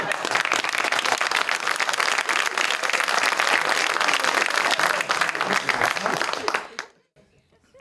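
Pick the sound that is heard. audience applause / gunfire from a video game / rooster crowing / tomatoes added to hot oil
audience applause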